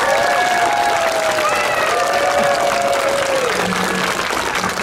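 A festival crowd of the Karnawał Sztukmistrzów claps and cheers loudly and steadily for performers, the ovation continuous throughout with whistles and voices rising over the dense applause.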